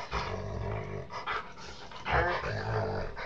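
A dog growls and grumbles playfully in short bursts, close by, with a few higher whiny yips mixed in.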